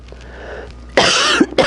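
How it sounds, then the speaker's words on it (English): A single harsh cough bursts out close by after a quiet stretch, followed by a short second burst. "I just coughed into that."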